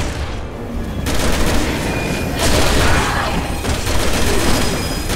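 Dense, loud gunfire from a Resident Evil 6 co-op session, a steady barrage of shots with booming bursts running the whole time, with a voice faintly mixed in.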